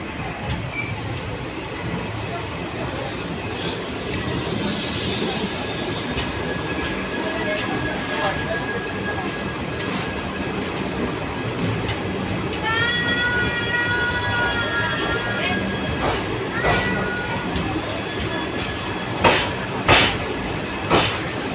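An express passenger train runs steadily on the rails, with a continuous rumble and rattle of the carriages, a few sharp clacks near the end and faint voices in the background.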